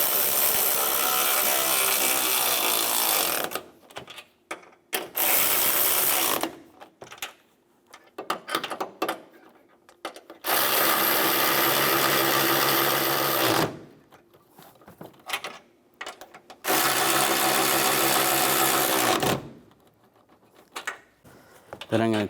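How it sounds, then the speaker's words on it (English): A powered ratchet tightens the strut nuts on a 2011-2019 Ford Explorer's front strut and spring assembly, whirring in four loud sustained bursts separated by quieter gaps with faint clicks and handling. "Now we can tighten the nuts down from above."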